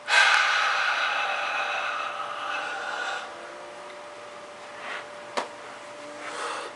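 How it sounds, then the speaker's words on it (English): A forceful exhale during dynamic tension kicking practice: a loud, breathy rush of air right up close that slowly fades over several seconds, followed by a few quieter breaths and one short sharp puff. "then breathe out."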